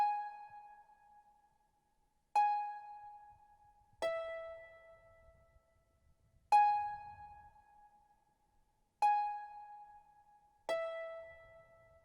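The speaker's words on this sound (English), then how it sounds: "I used this harp preset from Flex, once again from the MIDI library pack, and I came up with these very simple notes" Harp preset from the Flex synth's MIDI library pack plays six simple plucked notes, each ringing and decaying cleanly, spaced a couple of seconds apart and heard alone.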